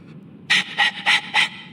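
A dog in the video game Dragon Age 2 pants heavily and close by, four loud, rhythmic breathy bursts over a low background hum.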